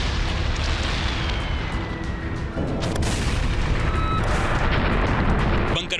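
Bunker buster bombs dropped by the Israeli air force on Hezbollah in Lebanon erupt in a heavy, sustained roar. Several deeper booms break through the continuous rumbling blast noise.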